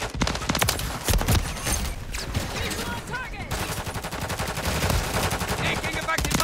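Rapid automatic gunfire in the video game Call of Duty: Modern Warfare III, a dense, continuous rattle of shots lasting several seconds with a few short breaks.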